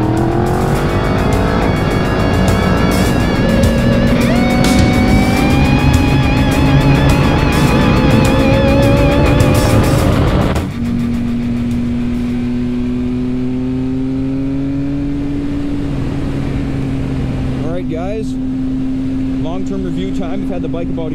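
A 2019 Triumph Speed Triple motorcycle engine roars loud and close, its pitch sweeping up through repeated revs and gear changes, then settling into a steadier drone after a brief drop in pitch partway through.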